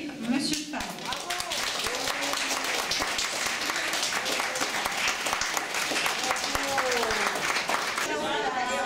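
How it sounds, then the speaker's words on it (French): Residents and staff applaud a man at a nursing-home birthday party in Hagetmau. The dense, continuous clapping lasts several seconds while voices talk over it. "je crois qu'on peut applaudir monsieur Fard"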